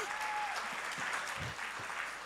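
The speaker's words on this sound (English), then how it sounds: "Come on, give the Lord a hand clap." A church congregation applauds in a steady wash of clapping hands that stays moderately loud throughout, with faint voices underneath.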